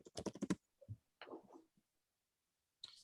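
Typing on a computer keyboard: a quick burst of close keystrokes, then a few scattered clicks and another short flurry, separated by quiet pauses.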